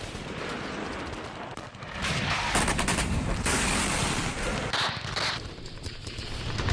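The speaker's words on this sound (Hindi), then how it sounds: "यह देखिए मशीन गन से रूसी पोजीशंस पर अटैक किया जा रहा है" Sustained machine gun fire on Russian positions near Bakhmut in the Russia-Ukraine war, a dense, continuous crackle of rapid shots that grows heavier midway, loud and unbroken.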